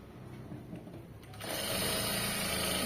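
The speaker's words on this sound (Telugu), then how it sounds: "స్ట్రేట్గా స్టిచ్ చేసుకోవాలి ఇక్కడ కూడా అంతే" A sewing machine stitches a garment seam straight, starting quietly and then running fast and steady at close range for the last second and a half, with no talk.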